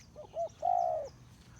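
A spotted dove coos nearby: two short soft notes followed by one longer, drawn-out coo, clear against a quiet background.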